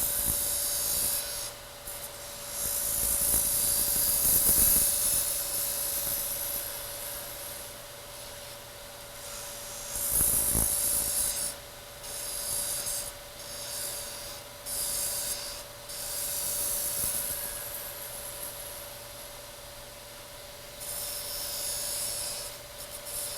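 A wooden lidded box spins on a lathe while a detail gouge cuts it, giving a close, continuous hissing scrape that swells and fades as the tool moves on and off the wood, over a steady motor hum.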